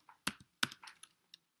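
Keys on a computer keyboard are tapped in a short, irregular burst of close, crisp clicks separated by brief silences.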